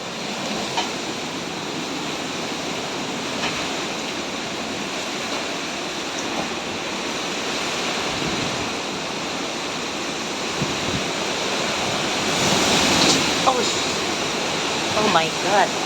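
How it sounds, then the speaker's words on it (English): Strong wind from Hurricane Milton, at about 120 miles an hour, roars outside as a continuous broad rushing noise like heavy surf, swelling louder toward the end, with voices faintly present underneath. "Look at how strong the wind is outside."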